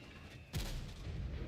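Tank gun firing in World of Tanks, a single sudden boom with a deep rumbling tail, moderately loud over steady background engine noise.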